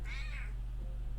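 A cat meows in a short rising-falling call near the start, close and clear over a steady low hum, then quiet.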